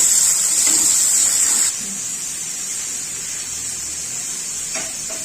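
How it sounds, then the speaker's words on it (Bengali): Small mourala fish fry lightly in a pan with a steady bright hiss. The hiss is strong for the first couple of seconds, then settles into a softer, continuous sizzle. "এটা ছোট মাছ, সেই জন্য আমি বেশি ভাজছি না, হালকা করে ভেজে নিয়েছি"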